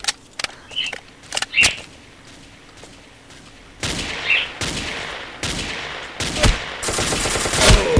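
Gunfire in the Ace of Spades video game: several sharp single shots early on, then denser bursts of rapid fire building toward the end, fairly loud with no talk over them.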